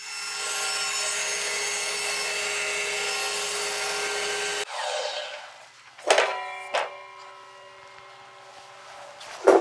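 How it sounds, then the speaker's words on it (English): A bandsaw trims a rough edge off a wooden piece for a cat scratcher, first a steady machine hum for several seconds, then a few sharp close cutting bursts as the blade bites the wood. "I should cut off the last rough edge on the bandsaw since it's right here and it's easy"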